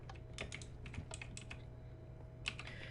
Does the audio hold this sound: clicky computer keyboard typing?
yes